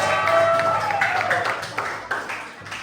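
Applause for group 4 right after their classroom presentation wraps up, a dense patter of many hands clapping for about three seconds and slowly thinning toward the end.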